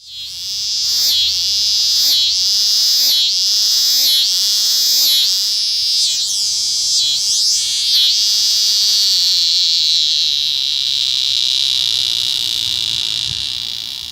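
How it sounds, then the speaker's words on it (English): A loud, continuous cicada song with a rapid rhythmic pulsing at first that smooths into a steady, high, rasping drone, close by and with no voices. "A scissors grinder cicada sounds like someone sharpening scissors on a grinding wheel."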